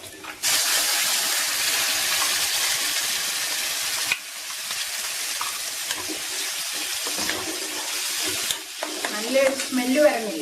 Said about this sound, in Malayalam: ഇനി ഇത് നമ്മൾ ചീനിച്ചട്ടിയിലേക്ക് ഒഴിക്കുവാണ്